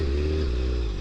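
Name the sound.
motorcycle engine slowing in first gear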